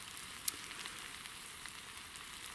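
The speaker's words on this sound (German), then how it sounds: "Wie ihr vielleicht erkennt, ich versuche mir da ein bisschen was, so eine Art Kartoffel-Leberkäse-Pfanne." Potato and Leberkäse frying in a pan over a Bushbox camping stove outdoors, a soft steady sizzle and crackle with a few small pops, faint and without talk.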